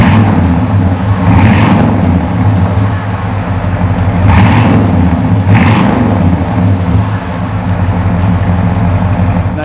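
A deep, rumbling 1970 Oldsmobile Cutlass 442 Convertible engine idles loudly, with three sharp revs rising and falling over the steady low throb.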